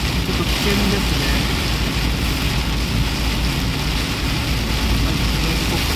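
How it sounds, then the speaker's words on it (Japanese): Heavy evening downpour drumming on a car windshield while driving on a national highway, a dense, steady, loud wash of rain noise with low road and engine rumble beneath, no voices. "非常にフロントガラスに打ち付ける 雨の音が すごいのでですね"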